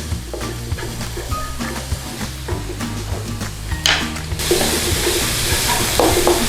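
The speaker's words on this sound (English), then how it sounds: "In with garlic and ginger and some shallot and onion. Get that in there. And we want to give that a bit of a stir fry through." Garlic, ginger, shallot and onion are stir-fried in a hot pan, with a spatula scraping and knocking rhythmically against the metal, then a loud steady sizzle surges up as the cooking intensifies, all close and without talk.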